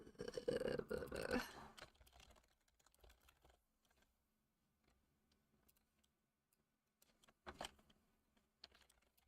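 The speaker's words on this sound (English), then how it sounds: "I got too preoccupied with typing so fast that I didn't wonder whether I should type that fast" A computer keyboard clatters in a quick burst of fast typing, dense and close for over a second, then falls to sparse faint taps and a couple of later short clusters of keystrokes in a quiet room.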